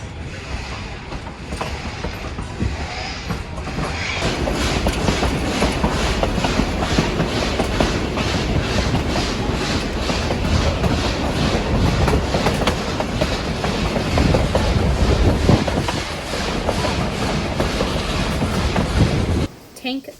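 The Durango & Silverton steam train rolls along mountain rails in Colorado, a loud, steady clickety-clack of wheels over rail joints with mechanical rattling, running for most of the stretch before cutting off abruptly near the end.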